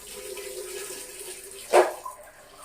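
Tap water runs steadily while lentils are washed, a soft broadband rush with one brief louder splash partway through before it eases off.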